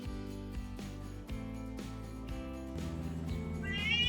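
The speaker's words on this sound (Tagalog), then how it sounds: "Uy, pusa." A cat meows near the end, rising over a steady musical backing with sustained low tones.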